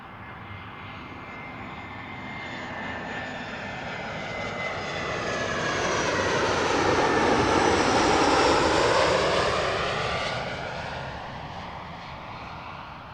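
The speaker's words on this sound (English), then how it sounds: "Clamshell reversers" A jet airliner with clamshell thrust reversers lands at London Gatwick Airport, its engine roar swelling to a loud peak as it passes close, then easing off, with no talk over it.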